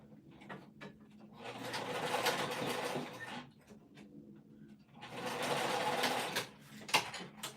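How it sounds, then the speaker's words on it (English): Sewing machine stitching a bag strap next to a rectangle ring: two sustained bursts of fast mechanical whirring, separated by a short quiet gap, with light clicks and handling noises in between. "I'm sewing as close to the rectangle ring as possible"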